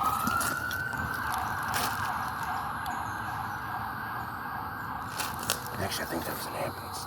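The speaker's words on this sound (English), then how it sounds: "Actually, I think that was an ambulance." A steady siren wails in the distance beneath constant background noise, its tone holding level with only a slight early rise.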